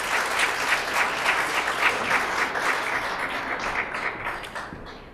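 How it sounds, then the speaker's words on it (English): An audience gives a full round of applause, dense and loud at first, then gradually thinning and fading away. "And a round of applause for that."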